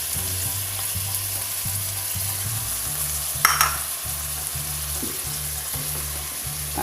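A tofu and tauco dish sizzles and fries in a pan while being stirred, with a steady hiss over repeated low scraping strokes of the spatula and a brief louder clatter midway.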